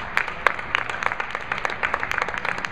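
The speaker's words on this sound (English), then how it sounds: "It's a round of applause" Audience at a JBT bowling event at South Point applauding a bowler, a moderate, steady patter of many hands clapping in a mid-sized room, fairly close and without talk.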